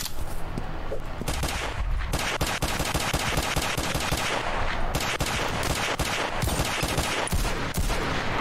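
Sustained automatic gunfire from the video game Ravenfield rattles on loudly and continuously, with rapid overlapping shots forming a dense, unbroken barrage.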